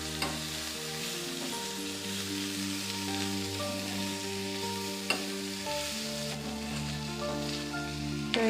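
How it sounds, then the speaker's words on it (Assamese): Bitter gourd slices sizzle and crackle in hot oil as they are stirred for crisp frying, a continuous close hiss with occasional clinks, under soft background music. "তো এইখিনি ভাজিম"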